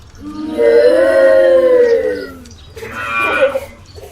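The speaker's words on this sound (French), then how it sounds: "Et quel bruit elles font, les vaches?" Two long, low cow moos, the first drawn out and loud, the second shorter and a little softer, with no talking.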